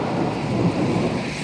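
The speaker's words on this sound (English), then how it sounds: "it's lightning and hail. This is not where you want to be in the middle of a thunderstorm." Heavy thunderstorm with lightning and hail, a steady dense roar of rain and hail pounding surfaces outdoors at a parking lot, with low rumbling thunder blended underneath, loud and continuous with no voices.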